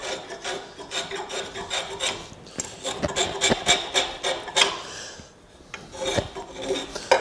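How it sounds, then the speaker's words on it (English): A spokeshave shapes a wooden letter opener handle, giving dry, scraping rasps in quick repeated strokes, close and moderately loud, with short pauses between passes. "You can actually get pretty close to approximating the shape you want just with spoke shave."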